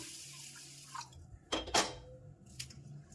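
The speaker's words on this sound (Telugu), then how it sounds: "ఒకటి రెండు సార్లు బియ్యాన్ని చక్కగా కడిగాను" Rice, about one and a half glasses soaked for cauliflower biryani, is swished and rinsed in water in a kitchen, giving quiet, close splashes and a few brief clinks against the vessel.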